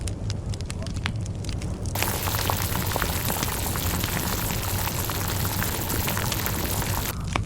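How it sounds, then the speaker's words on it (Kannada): Water comes to a full rolling boil in the pot for Mandya-style mutton donne biryani, a loud, dense bubbling roar that runs steadily throughout. "ಫುಲ್ಲು ನೀರು ಕುದೀತಾ ಇದೆ"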